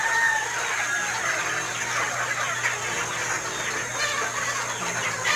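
Backyard gamefowl chickens cluck and chatter through a steady outdoor background hum, with overlapping bird calls at a moderate distance and no talking.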